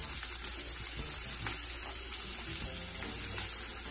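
Saltfish frying in a pan while being continuously mixed for ackee and saltfish, a quiet steady sizzle with a few soft clicks and scrapes, close and fairly faint, with no talk.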